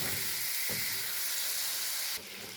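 Liver and gizzards sizzle steadily in a hot pan, a dense continuous frying hiss with a couple of soft stirring knocks, the sizzle briefly brightening near the end.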